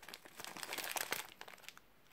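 A plastic bag crinkles as it is handled, a close, brief burst of rustling and crackling that fades out after under two seconds, with no talking.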